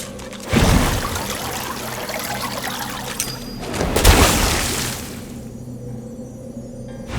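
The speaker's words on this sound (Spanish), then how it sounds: "The well is now filled to the brim with fresh, cool water" Water pours into a well in Divinity Original Sin II, a broad rushing splash with two loud surges in the first half before it trails off into quiet.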